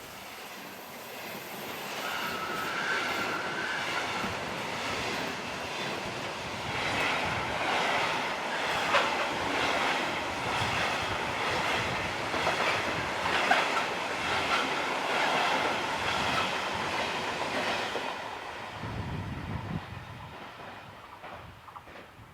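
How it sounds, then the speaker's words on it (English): A northbound intermodal freight train passes on a European line, a long steady rumble with rhythmic wheel clatter and a faint squeal, fairly close, with no talking. "A northbound intermodal has number 178 on the front."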